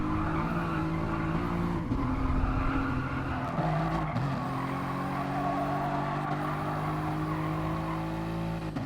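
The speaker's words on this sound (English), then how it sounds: "Hard on the brakes." A race car in a racing video game brakes hard, its tires squealing in a long skid over layered, droning engine tones that shift pitch, loud and continuous with no talking.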